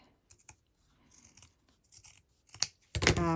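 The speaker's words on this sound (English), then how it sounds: "I will trim that down" Scissors trim batting along the edge of a lace journal cover in a few short snips and rustles, close and quiet, ending in a louder burst of handling noise.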